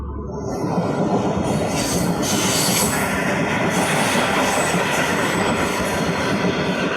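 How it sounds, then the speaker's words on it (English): A train rumbles past close by, loud and continuous, with wheels squealing and rails clattering under a constant roar, and no voices. "I arrived just after the train has gone past."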